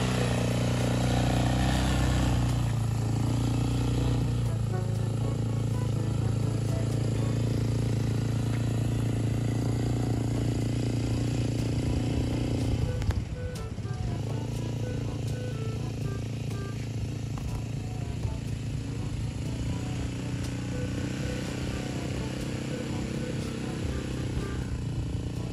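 A 200cc ATV engine runs on a beach, giving a steady, close mechanical drone with a faint rise and fall in pitch partway through. It continues without pause for the whole stretch.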